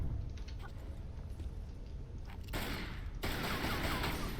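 Gunfire in Tomb Raider Anniversary during the final fight with Natla: two loud broadband bursts of shots cut in over a steady low rumble, close and dense, with no talk.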